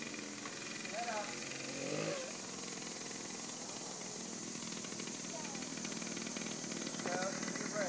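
A Honda JR50 youth motorcycle engine runs with a steady, buzzy small-engine drone and a few faint rises in pitch, heard at a modest distance under outdoor background noise.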